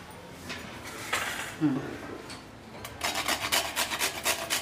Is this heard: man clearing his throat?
no